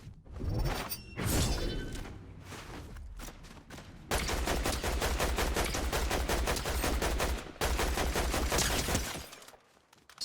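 Gunfire in a Fortnite Zero Build match: scattered single shots, then long rapid automatic bursts crackling loud and dense, with a brief pause between volleys before the firing fades out.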